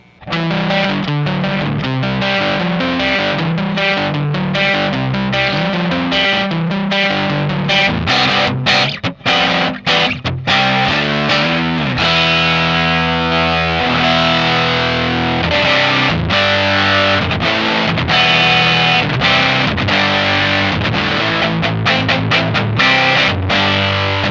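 Guitar played through an Old Blood Noise Endeavors Beam Splitter pedal, its green and blue circuits panned hard left and right in stereo with time and decay at zero, giving a thick, distorted, chorus-like tone with sustained chords and steady loudness throughout.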